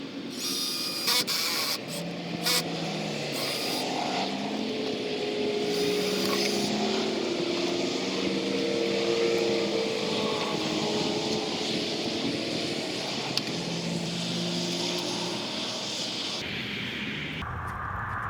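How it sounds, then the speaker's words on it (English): Power drill boring a couple of holes through 6-inch PVC pipe, a steady loud motor whine with shifting pitch running nearly the whole time, no talking over it. "All I got to do is bore a couple holes and then use my little reamer tool to soften the edge."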